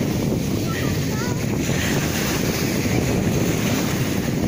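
Sea waves and surf at Anapa beach on the Black Sea as a swimmer wades in, a constant loud wash of water mixed with heavy wind buffeting the microphone.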